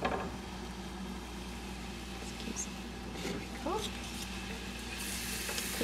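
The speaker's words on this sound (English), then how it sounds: "we're just going to quickly saute our vegetables, starting with our onions, and get a little softened" Onions sautéing in olive oil in a pan, a soft steady sizzle under someone talking, with a few clinks of utensils.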